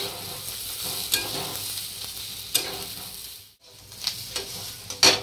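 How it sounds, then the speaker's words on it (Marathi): Dry coconut and onions roast and sizzle in a pan, a steady close frying hiss broken by repeated scraping stirs and a brief lull. "खोबरं टाकून घेते, सुक्क खोबरं, ते पण चांगलं भाजायचं कांद्यासोबत"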